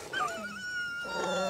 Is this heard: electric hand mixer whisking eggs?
no